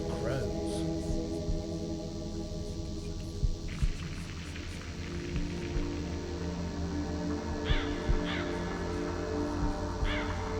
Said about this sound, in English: Hey, it's crow sounds.